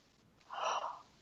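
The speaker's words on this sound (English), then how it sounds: "I do yawn when I'm watching energy release" A single breathy yawn, close and fairly soft, rises quickly and fades after about half a second against a quiet background, with no talking.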